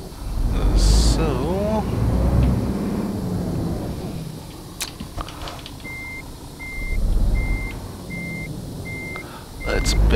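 A cement truck in Euro Truck Simulator 2 sounds its reversing alarm in a snowy setting, a steady series of evenly spaced beeps in the latter half, following engine rumble and someone talking.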